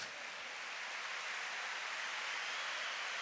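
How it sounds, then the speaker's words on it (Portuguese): Church conference congregation applauds the Lord, a dense, even wash of distant clapping that holds steady and faint like rainfall, with no distinct individual claps. "Pode aplaudir o Senhor"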